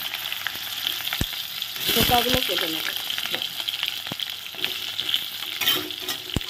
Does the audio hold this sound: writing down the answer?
no